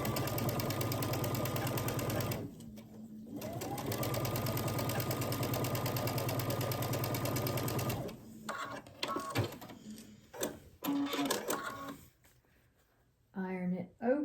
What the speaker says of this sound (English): sew down this side. Sew a 1/4 inch seam.